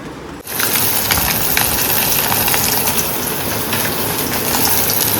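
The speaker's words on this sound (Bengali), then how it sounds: "মাছ ভাজা হচ্ছে" Fish frying in a pan, a steady loud sizzle that starts abruptly after a brief quiet moment and continues with crackling pops throughout, no voices.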